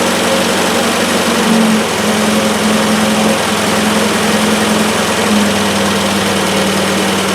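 Triumph Spitfire engine running steadily near idle, a loud close mechanical hum with vibration and a slight dip in tone partway through, no voices.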